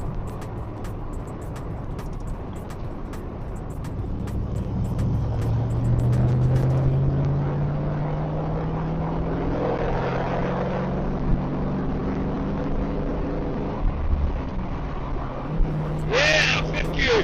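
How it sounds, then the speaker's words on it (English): A Chevrolet Camaro fitted with a T56 manual transmission accelerates on a highway, its engine drone climbing in pitch and then dropping as it shifts into fifth gear. The steady cabin hum continues afterward, with someone talking. "Let's see if it shifts into fifth or sixth."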